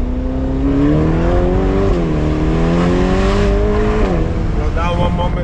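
A Ferrari Performante on a test drive in Italy roars loudly from inside the car, its engine note climbing in pitch as it accelerates, dips briefly at a gear change, then rises again.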